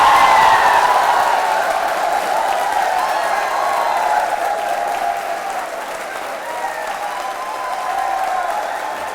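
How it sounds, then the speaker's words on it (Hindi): Loud, sustained crowd applause with some cheering rolls through a college quiz show audience at a teachers' training college. It holds steady for about nine seconds and eases slightly near the end. "जोरदार ताली बजाइए अपने लिए।"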